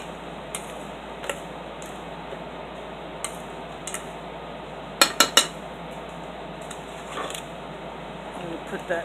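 Cutlery clinks against a dish while a ration breakfast mix is stirred, a few quiet scattered taps with a tight cluster of sharper clinks midway, over a faint steady background hum.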